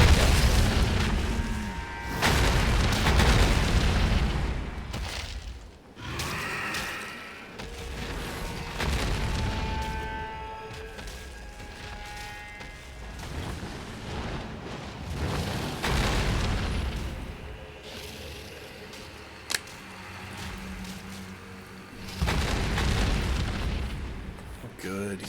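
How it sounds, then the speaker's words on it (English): A dragon in Elden Ring sets off ghost flame explosions, a run of deep booming blasts and rumbling bursts that rise and fade across the stretch, some sharp pops among them, with someone talking over much of it. "he's getting off some ghost flame explosions"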